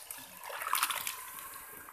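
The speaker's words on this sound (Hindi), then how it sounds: "अब हम इसमें ये जो आलू बुखारा है ये पानी समेत इसमें डाल देंगे।" Dried plums (aloo bukhara) poured with their soaking water into a cooking pan, a steady close splashing pour that swells briefly in the middle.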